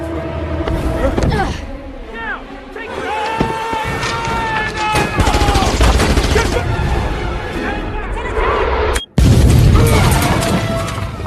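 A suicide bombing in the spy thriller Salt plays as loud, continuous gunfire and explosive crashes over a dense score, with voices in the mix and a sudden cut before a final heavy boom.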